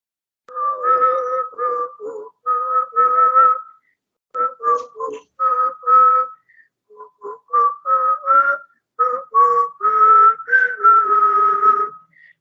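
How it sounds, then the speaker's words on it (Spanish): A lone performer carries a bolero melody in two alternating voices, bright whistling phrases woven with low guttural hums, in short rhythmic bursts separated by brief pauses, close and clear with no accompaniment. "canté a 2 voces, hice la melodía con sonidos guturales y silbando"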